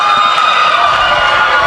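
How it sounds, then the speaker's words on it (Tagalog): A basketball arena crowd roars loudly and steadily after a play, a dense, sustained wall of cheering and shouting with no break. "You can hear the crowd roaring coming in from that play."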